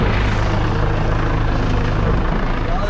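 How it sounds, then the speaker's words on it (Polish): A loud helicopter thunders close by as it lands at a construction site, its rotor chop and engine roar filling the air continuously without a break. "Helikopter tu ląduje"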